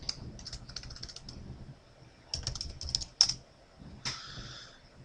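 Fast bursts of clicky computer keyboard typing come in several clusters with short pauses between them, fairly close and crisp, with a few heavier keystrokes near the end.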